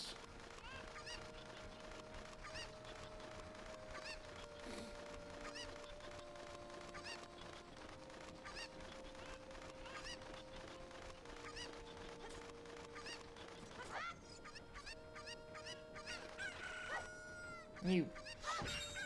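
A flock of Cucco chickens in Zelda Ocarina of Time clucks and honks over steady game music, with the calls building into a busier squawking flurry toward the end.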